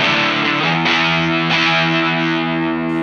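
Electric guitar played through a vintage Bixonic Expandora distortion pedal gives a loud, crunchy, saturated chord that rings steadily, restruck twice, with no talking.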